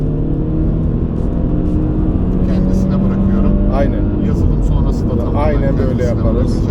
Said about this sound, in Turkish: 3. viteste 4000 devirde basıyorum.